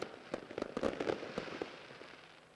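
Fireworks burst at the Garrett Sydney Jamboree race day. A clustered volley of crackling pops and bangs rises and then fades, heard from a distance with no talking.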